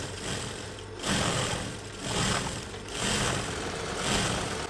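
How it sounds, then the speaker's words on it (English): A sewing machine stitches a quarter-inch folded shirt hem, running in steady bursts of fairly loud mechanical whirring with short pauses between them, with no talking. "And then you can stitch."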